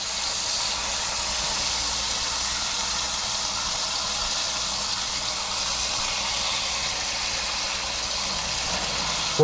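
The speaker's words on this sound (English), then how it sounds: "Hear that sizzle? That's how real bacon should sound." Turkey bacon, four thin slices, sizzles steadily in a frying pan, a constant bright hiss holding at even loudness with no talk over it.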